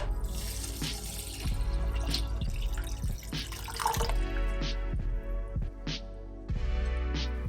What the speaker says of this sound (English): then pour in 4 cups of water